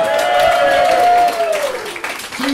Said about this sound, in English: Round of applause for the poor black people who had to put up with my ass all night.